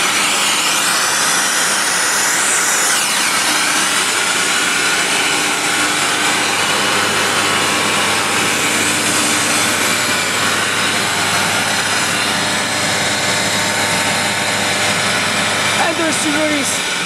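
An Atlas Copco air compressor runs loud and steady, filling the space with a constant mechanical roar and rumble, while someone talks over it.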